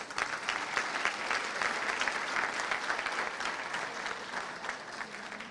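At a graduation ceremony, an audience claps steadily and fairly loudly for grade 7 students after a performance, a dense, even wash of applause throughout with no voices over it.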